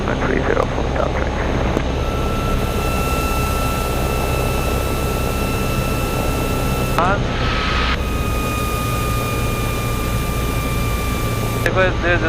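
A small single-engine Cessna 172 drones steadily in flight just after takeoff near the runway, a loud continuous cabin hum with a faint radio tone and occasional voices over it.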